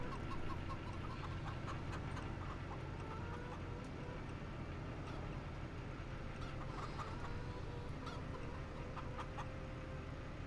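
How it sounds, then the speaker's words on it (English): Farm chickens in the video game Farming Simulator 25 cluck in repeated short bursts over a dense, continuous mechanical hum, moderately loud and layered with constant background noise. "You keep making all this noise, chicken."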